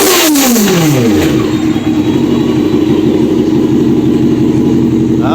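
A 1988 Honda CBR600F1 Hurricane motorcycle engine revs hard close by, climbing quickly in pitch and then holding a loud, steady high-rpm roar.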